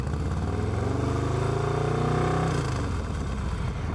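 A motorcycle fitted with a Cobra El Diablo exhaust and an S&S Cycles 475c cam, running before a proper tune, revs loudly and steadily at about 4000 RPM, then drops back toward idle near the end.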